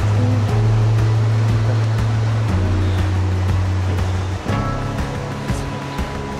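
A steady rushing of a flowing river near Ubot Falls in Aurora Province fills the clip, loud and close, with a low drone running beneath it.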